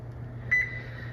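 A single short electronic beep from an oven timer, used while baking jumbo blueberry muffins, rings out once over a steady low appliance hum.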